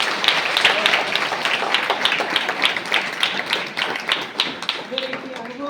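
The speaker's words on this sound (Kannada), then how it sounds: "ಹಾರ್ದಿಕವಾದಂಥ ಸುಸ್ವಾಗತವನ್ನು ಚಪ್ಪಾಳೆ ಕೊಟ್ಟು" An audience at an event welcomes a revered guest with sustained applause, a dense patter of many hands clapping steadily at moderate distance, with a voice speaking over it.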